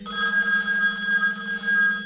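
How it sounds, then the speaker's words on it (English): A hotel room telephone rings close by, one continuous electronic bell tone trilling steadily for about two seconds in an otherwise quiet room. "Seconds later, the hotel room phone rang."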